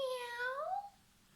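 A cat gives a single meow that rises and then slides downward. It is fairly faint and stands alone against a quiet background.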